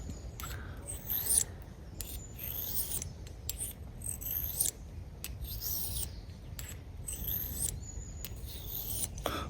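A small survival knife's edge is drawn across a sharpening stone in repeated short, hissing strokes, each a quick scrape followed by a pause, close and fairly quiet.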